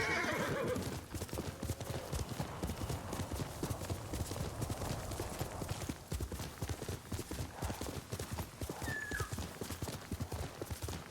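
A horse gallops steadily in Ghost of Tsushima, loud rhythmic hoofbeats continuing throughout with a brief neigh near the start, heard without speech.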